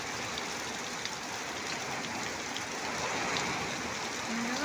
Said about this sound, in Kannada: ನೋಡಿ ಎಷ್ಟು ಎಷ್ಟು ಜೋರಿದೆ ಮಳೆ